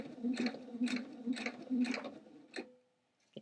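Sewing machine stitching a thrift-store sweater onto the shirt underneath, a quiet rapid mechanical whir in four short bursts with brief pauses, then a final stop and faint click.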